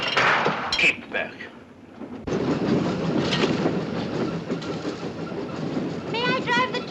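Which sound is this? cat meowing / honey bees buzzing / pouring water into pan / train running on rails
train running on rails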